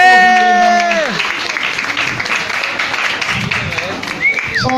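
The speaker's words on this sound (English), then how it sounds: "another round of applause for Emily and all the rest" Audience applause in a bar for a performer, with a sustained voice and whoops at first, then a steady spread of clapping and crowd noise, with cheering rising near the end.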